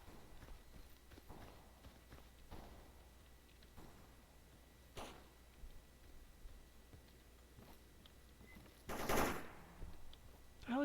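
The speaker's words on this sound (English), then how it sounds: "Okay, that's a bandit. He's shooting at something." A bandit fires a gun somewhere in the Stalker Anomaly game world: distant, irregular shots over ambient noise, ending in a louder burst near the end.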